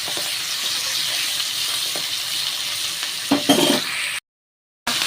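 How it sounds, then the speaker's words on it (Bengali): Pieces of hilsa fish sizzle loudly in oil, with a steady close frying hiss, a couple of stirring bursts near the end and a brief silent gap. "মাছগুলো দিয়ে আমি একটু ভাজা ভাজা করে নেব।"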